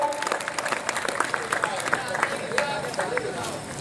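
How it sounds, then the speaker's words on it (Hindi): Lively audience applause at a Hindi poetry recital: dense, rapid clapping from a crowd with crisp individual claps, mixed with some crowd murmur and a voice over it. "जोरदार तालियां बजा भाई।"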